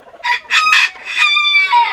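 Foreign-breed hens and roosters on a chicken farm in Bagerhat, with a loud, close rooster crow and overlapping clucks in a continuous burst of fowl calls.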